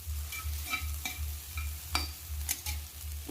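Tomato and egg frying in a pan, a steady low sizzle with scattered stirring scrapes and small clicks of a spatula, close and continuous with no talking.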